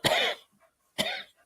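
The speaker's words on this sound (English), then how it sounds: "he just made me cough" Two harsh, close coughs separated by a short pause, each a sharp burst trailing off quickly, with no talking around them.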